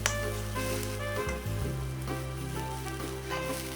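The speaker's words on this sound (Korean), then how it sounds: "소고기 겉면이 익으면 중불에서 익혀줍니다" Beef searing in a pan over medium heat gives a soft, steady sizzle with faint crackles throughout, quiet and close, with no voices.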